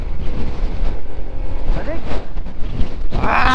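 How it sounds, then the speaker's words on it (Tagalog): Strong wind on the mountain road through Malico, Pangasinan, loud gusty buffeting against the microphone throughout, with people talking beneath it. "Grabe, sobrang hangin."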